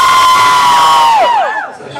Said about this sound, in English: That wasn't the same amount of cheer.